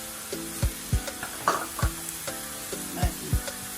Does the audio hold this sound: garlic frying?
yes